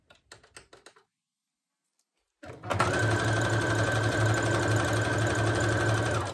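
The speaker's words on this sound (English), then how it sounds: "I'm just going to very simply sew down the center" A vintage sewing machine runs steadily for several seconds, stitching down the center of a fabric ruffle with a fast, even mechanical whir close by, after a few soft handling taps and a brief silence.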